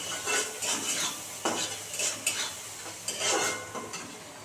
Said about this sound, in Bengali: এবার এটাকে খুব সুন্দর করে ভেজে নেবো